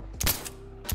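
Two sharp, loud gunshots ring out in the Insurgency video game, one early and one at the very end, with a short ringing tail between them.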